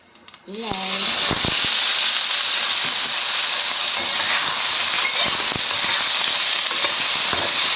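Vegetables dropped into a hot pan for a Filipino radish soup: a few quick clatters, then a loud, steady sizzle and hiss close up, with occasional stirring knocks and no talk.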